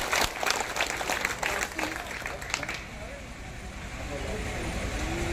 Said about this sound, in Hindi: जोरदार ताली बजा के स्वागत